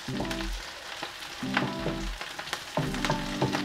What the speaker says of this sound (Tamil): எல்லாம் போட்டு இது ஒரு 2 நிமிஷம் பொரியட்டும்